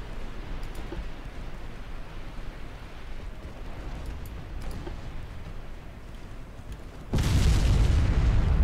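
Flash fire explosions tear through a warship in the naval game Ultimate Admiral Dreadnoughts, with a dense rumbling roar of battle that jumps to a heavier, louder blast near the end. No voices.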